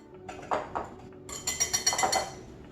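A spoon clinks and taps against a bowl while ingredients are stirred together for mini chocolate bundt cakes. Light, uneven knocks come first, then a quicker cluster of bright clinks, all fairly quiet and close.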